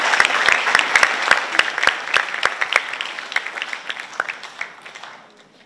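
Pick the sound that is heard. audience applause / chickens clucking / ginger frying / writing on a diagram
audience applause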